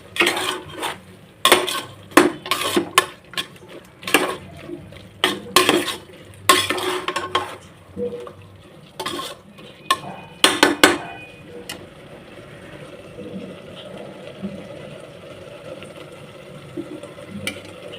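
Raw masala is fried in oil and stirred in a pan for green pulao, with loud, irregular clanks of a spoon against the pan giving way to a softer, steady simmering sizzle.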